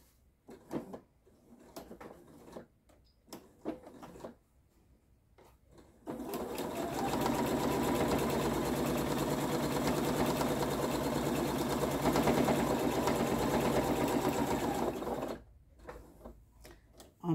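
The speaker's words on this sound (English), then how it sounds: "So all I need to do now is sew down the side." After a few quiet handling clicks and rustles, a sewing machine runs in one long continuous burst of about nine seconds down the side of an oven mitt's binding, a steady close whirring stitch, then stops, followed by more light clicks.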